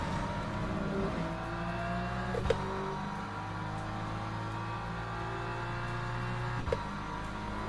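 A hypercar in the racing game Le Mans Ultimate, a sustained engine drone with a shifting pitch, heard from inside the cockpit at fairly low volume, with faint knocks and no talking.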